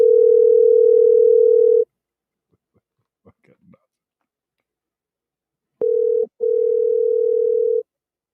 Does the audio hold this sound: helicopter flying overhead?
no